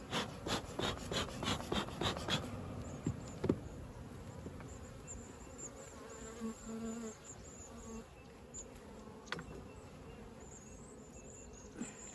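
Agitated honeybees swarm around an opened hive, their buzzing loud in dense bursts at first, then thinning into a softer steady hum with scattered individual bees passing close to the microphone.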